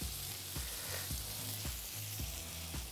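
Steak and garlic searing on a Pit Boss Sierra flat top griddle give a loud, steady sizzle, with brief crackling bursts recurring about every half second.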